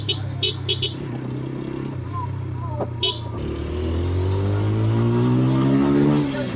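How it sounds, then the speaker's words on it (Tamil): A 2025 TVS Apache RTR 160 4V motorcycle accelerates; after an opening stretch of wind rush, its exhaust note climbs steadily in pitch and grows louder as the revs build. "இந்த எக்ஸாஸ்ட் நோட்டும் இதோட பவரும் வந்து இந்த 6000 RPM 5000 RPM வர்றப்போ வந்து வர்ற புல் இருக்கே செம்மையாக"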